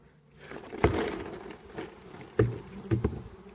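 Honeybees shaken into a mite wash tub buzz in a close, agitated drone, with a few louder bumps and knocks from the tub.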